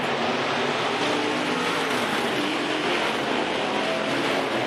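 Dirt track race cars roar around the oval, a dense, steady wash of engine noise with no breaks, loud and continuous, as Kelly's 14 machine and Matuska's 43 battle for position.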